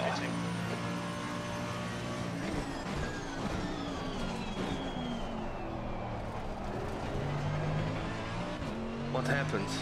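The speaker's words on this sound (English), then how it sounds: "I spun in the chicane." A GT race car in the Assetto Corsa Competizione racing game spinning out in a chicane, a loud engine whine sweeping down and back up under continuous talk, with other cars droning nearby.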